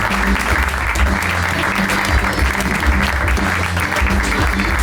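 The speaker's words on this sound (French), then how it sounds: "On peut l'applaudir bien fort, merci Léa" Loud, continuous applause from a live podcast audience at a stand-up comedy event, many hands clapping steadily with a low crowd rumble beneath.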